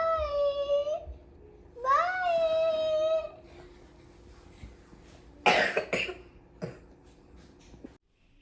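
Several short, harsh coughs from a sick young child, clustered in the second half, after stretches of high whining, babbling vocal sounds.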